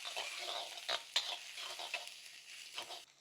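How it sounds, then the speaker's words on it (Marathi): Chopped green chilli, garlic and ginger sizzle in hot oil in a wok, a soft, continuous frying hiss broken by a few light stirring scrapes, with no talking. "बारीक चॉप केलेली हिरवी मिरची, बारीक चॉप केलेला लसूण, बारीक चॉप केलेला अद्रक व्यवस्थित परतून घेऊ।"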